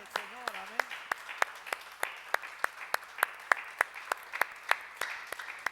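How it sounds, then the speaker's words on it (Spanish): A church congregation claps in unison to a steady rhythmic beat, sharp evenly spaced claps that carry on throughout, with a voice briefly heard at the start. "Y todos los que fueron bendecidos den un aplauso fuerte al Señor."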